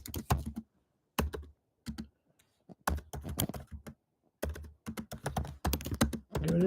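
Typing on a computer keyboard in short bursts of rapid key clicks, separated by brief pauses, close and fairly quiet.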